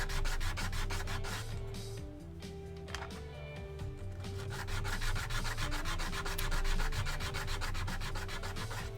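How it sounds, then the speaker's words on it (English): Wooden Moominhouse kit parts being sanded by hand, a steady rapid back-and-forth rasping scrape that runs continuously and close, with slight pauses in rhythm and no talk. "As everything shakes because I'm sanding."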